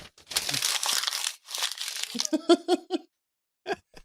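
A sheet of paper is crinkled and crumpled by hand close to the mic in two bursts of dense rustling, followed by a few short crackles and taps, then a final crinkle after a pause.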